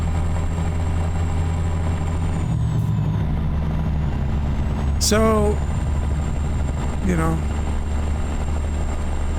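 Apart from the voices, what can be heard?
ZeeMod 3406b truck engine in American Truck Simulator video game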